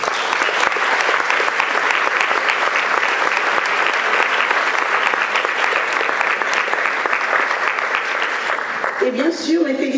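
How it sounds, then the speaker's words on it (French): Sustained applause from a large audience at a graduation ceremony, dense and even clapping for about nine seconds before it fades out. "Elles aussi méritent une salve d'applaudissements."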